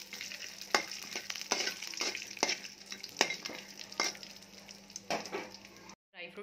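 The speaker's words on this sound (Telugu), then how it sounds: "ఇలా ఫ్రై చేసుకోవాలి." Dry fruits frying in a pan for carrot halwa, a soft steady sizzle close by, broken by repeated light scraping stirs of a spoon against the pan; no talking.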